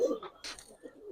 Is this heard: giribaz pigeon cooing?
yes